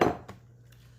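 A spoon clanks against a pot while beef stroganoff is stirred, giving one clear knock at the start and a few fainter taps after it, close and quiet.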